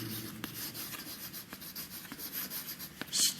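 Chalk or marker scratching across a classroom board as a teacher writes, a series of close, uneven scraping strokes with short pauses between them, no speech.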